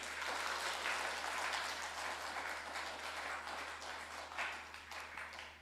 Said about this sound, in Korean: 우리 다시 한번 더 박수로 경례하도록 하겠습니다.